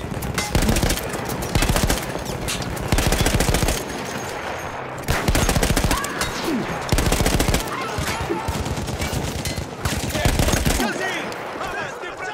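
Repeated bursts of machine gun fire from an emplaced gun in Battlefield 1, loud and close, rattling in long rapid strings with short pauses between volleys.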